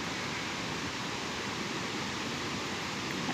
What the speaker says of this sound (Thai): เสียงน้ำตกดังเลย